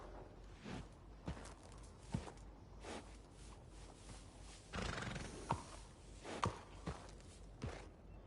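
Video game horse neighs and snorts close by, mixed with slow hoof clip-clops and shuffling steps, fairly quiet overall.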